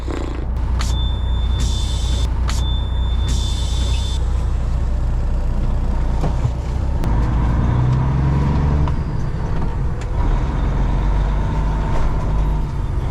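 A 1960s gasoline-powered truck hauling a load of cattle rumbles along the road, with a steady low engine drone, passing traffic and a few sharp knocks and hisses near the start, no talk.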